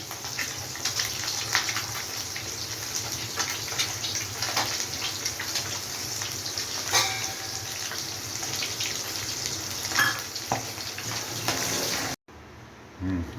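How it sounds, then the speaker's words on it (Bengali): Pieces of rui fish frying in hot oil, a steady loud hiss and crackle throughout with scattered pops, ending abruptly near the close. "মাছটা ভাজতে থাকি"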